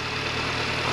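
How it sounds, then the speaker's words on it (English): A 1.4 or 1.6 litre Mini One or Cooper R50/R52 engine idles with a steady, even hum, heard close and alone with no talk. "Right then, the engine, as you can hear, is running."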